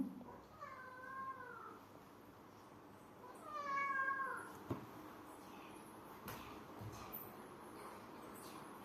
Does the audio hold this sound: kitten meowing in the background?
yes